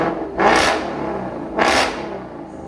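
Two sharp, close revs of a Ford Mustang GT 5.0 V8 fitted with a Corsa Xtreme cat-back exhaust, each a quick loud blip that rises and falls back to a rumbling idle.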